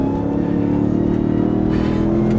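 A 2027 RAM 1500 TRX SRT pickup's engine roars at full throttle, a loud, steady, close growl that holds without letup.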